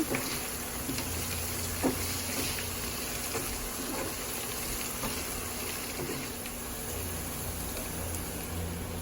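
Onions fry in a pot for mutton pakki biryani while being stirred, giving a steady, fairly faint sizzle with a few soft scraping knocks scattered through.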